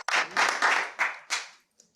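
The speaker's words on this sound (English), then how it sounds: "clap it up for Satya." An audience applauds at a film-business talk, with a short burst of clapping in several quick surges that fades out within about two seconds.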